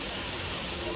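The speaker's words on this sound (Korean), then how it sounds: "천전폭포 물줄기가 시원하게 계곡을 따라서" Continuous rushing roar of Cheonjeon Falls on Jeju Island flowing down a valley, steady and full, heard from nearby.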